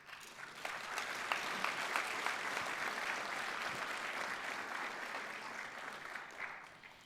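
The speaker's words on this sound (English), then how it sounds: "So I would like you to thank them with a big applause." An audience at a Buddhist Vesak celebration closing ceremony giving a big round of applause, sustained dense clapping heard from some distance, steady throughout and tapering slightly at the end.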